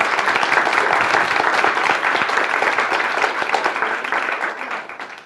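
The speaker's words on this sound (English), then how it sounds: "Could we round of applause for our" Audience applause for the panelists at a women's college leadership salon on health care policy, a dense steady roar of many hands clapping close by that fades slightly toward the end.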